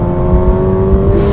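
Suzuki Hayabusa motorcycle accelerating in second gear, its engine a loud, close, steady drone with a rising tone over about a second and a half.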